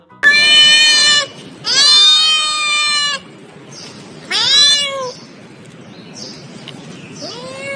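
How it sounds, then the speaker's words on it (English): A cat meows loudly and close up, three long drawn-out calls followed by a few fainter, shorter mews, with no talking. "C for cat."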